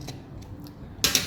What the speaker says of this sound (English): So let's open the retail box.